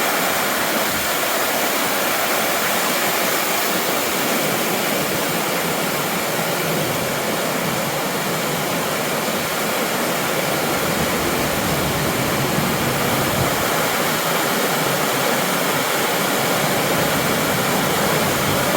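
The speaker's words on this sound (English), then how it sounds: "I wonder how many people have filmed it with this amount of water coming down." Heavy water pours steadily into the infinity pool at Leura Cascades, a dense, unbroken rushing roar that stays loud and close throughout with no voices.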